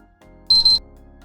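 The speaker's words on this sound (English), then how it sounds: "when you hear 2 quick beeps" Two quick high-pitched electronic beeps from a PlayStation 3 console while its power button is held, in rapid succession, loud and close, over a quiet hum.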